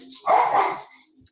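A single short, loud dog bark, close by and alone, followed by a faint trailing sound.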